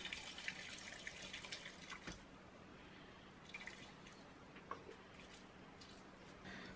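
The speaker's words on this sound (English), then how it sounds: "But we're going to pour in about half of this." Liquid from a ginger bug, a fermented ginger starter, is poured while making old-fashioned ginger beer, a faint steady trickle with scattered drips and splashes at close range.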